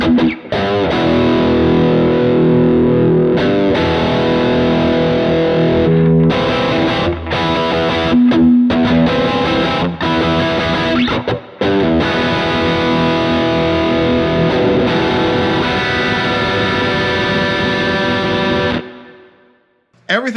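Loud, heavily distorted electric guitar strung with neon coated strings, chugging palm-muted riffs and sustained chords played continuously for about nineteen seconds before cutting off, with no voices.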